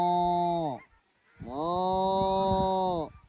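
A person imitates a cow mooing with two drawn-out, nasal, lowing calls, a shorter one followed after a brief pause by a longer one, loud and close.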